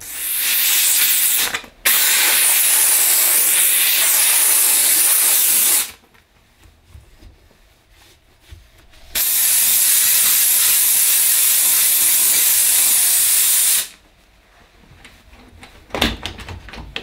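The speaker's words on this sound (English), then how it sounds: "I like them for being able to shoot the steam into areas you can't get a brush or a cloth" A Dupray Neat steam cleaner gives loud, steady hissing jets of steam in three long bursts, each several seconds long, separated by quieter gaps.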